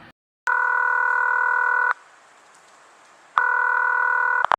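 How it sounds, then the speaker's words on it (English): A telephone rings on the line while a call to the police department is being put through: two long, steady buzzing rings with a gap between them, loud and clear, and no voices. "Ringing the police department."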